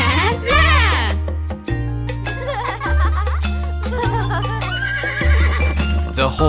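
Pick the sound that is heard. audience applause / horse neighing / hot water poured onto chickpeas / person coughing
horse neighing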